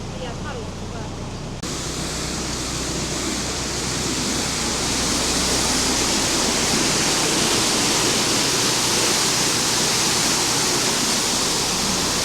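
Water gushes through an open canal lock paddle as a loud, steady roar, starting suddenly and building into a dense, continuous rush.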